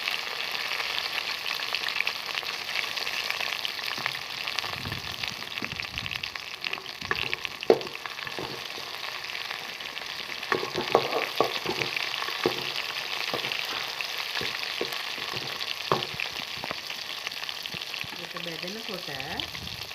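Garlic and curry leaves frying in hot oil, a continuous dense crackle and hiss with scattered pops and the odd utensil knock, close and steady, a faint voice briefly underneath.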